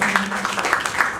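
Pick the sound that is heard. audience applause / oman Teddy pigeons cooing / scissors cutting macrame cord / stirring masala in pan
audience applause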